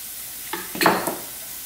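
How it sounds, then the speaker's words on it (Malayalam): Bitter gourd tipped into a frying pan for a pavakka thoran, giving a short burst of sizzle and a couple of stirring scrapes, close and brief against a quiet background. "പാവയ്ക്ക അതിലേക്ക് ഇട്ട് കൊടുക്കാം"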